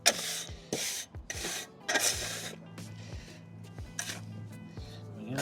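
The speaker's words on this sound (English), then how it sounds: "Get a nice even spread of the sand" Sand being worked and spread across block paving with a float, giving repeated scraping, rasping strokes in short bursts with brief pauses, close and moderately loud, with no talking.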